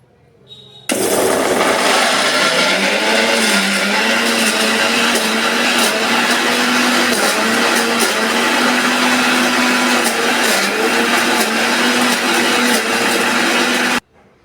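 A mixer grinder runs steadily with its lid closed, grinding onion into a smooth paste, a loud continuous motor whir with a churning edge lasting about thirteen seconds before cutting off abruptly.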